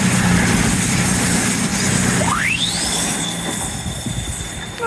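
A train passes along a frosty waterside line at Teignmouth, a steady rumble with a rising whine and a sustained high tone toward the end, no voices.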